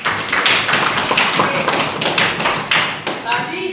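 A classroom audience at a micro-teaching session applauds Ayman Maya with a dense, steady patter of claps lasting a few seconds. Voices are mixed in.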